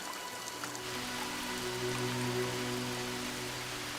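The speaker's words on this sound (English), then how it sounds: "It's May, and the rain is coming." Monsoon shower in a Cambodian forest: steady patter of rain on leaves and ground, soft and continuous, with faint insect-like tonal hums running beneath it.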